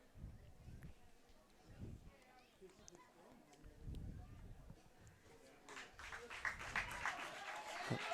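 Spectators clap at a high school playoff baseball game between Jesuit and West Salem. The clapping is faint and distant and swells near the end, over quiet crowd murmur and talk.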